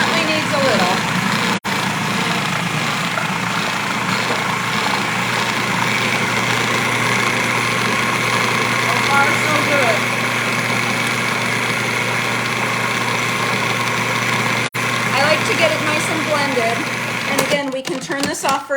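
A food processor blends edamame hummus with a loud, steady motor whir and churning of the thick mixture, running continuously before cutting off near the end.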